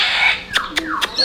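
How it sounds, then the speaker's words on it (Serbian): Pet parrots squawk up close and loud, a raspy call followed by a quick run of three or four sharp, chirping squawks with no talking. "Ovo su moji omiljeni papagaji."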